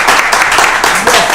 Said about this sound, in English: Could we give these folks a round of applause?